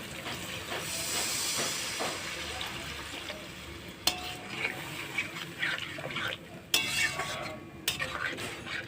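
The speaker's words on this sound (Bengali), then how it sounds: "মশলাটা কষানো হয়ে গেছে তেল ছেড়ে দিয়েছে এবার দিব জল" Hot fried spice paste for a Bengali potato and bhola fish curry hisses steadily as water goes in, a broad near steam hiss with a few sharp metallic clicks and scrapes of a stirring spoon, no talk.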